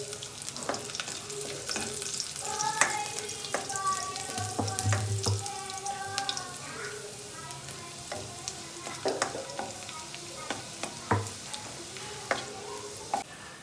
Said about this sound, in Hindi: अब ये हमारा लहसुन और कड़ी पत्ते जो है ये क्रैकल हो गए हैं।